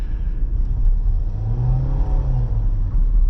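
A 2025 MG ZS with a 1.5-litre engine accelerates under throttle in its default setting, a steady mid-pitched engine drone rising in a brief surge before easing back, heard from inside the cabin.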